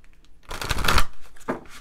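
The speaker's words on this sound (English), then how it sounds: "I'll pull one more card" A tarot card pulled from the deck during a reading, a brief papery shuffle and slide of cards close by, loudest in a single burst with a softer flick after.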